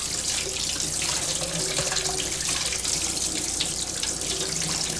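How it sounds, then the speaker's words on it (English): A synthetic paint brush used with latex paint is rinsed under a steady, close stream of running tap water that splashes continuously throughout, with no voices. "Synthetic brushes used with latex are rinsed in detergent and water."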